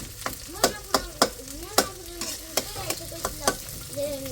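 Onions fry in a pan while a utensil stirs them, giving repeated sharp scraping clicks over a steady sizzle, close by and with no speech.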